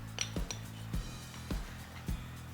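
Egg yolk batter with flour being mixed in a bowl, giving four evenly spaced clinks of a utensil striking the bowl's side over a soft, low background, with no talking.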